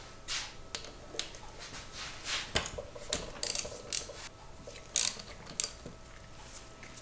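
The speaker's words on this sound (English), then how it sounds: "Now I'm going to use a 13mm socket and get these bolts off." Socket ratchet loosening bolts on a KTM motorcycle, quiet clicking and clacking in short bursts with scattered metallic taps, close and fairly faint, no talking.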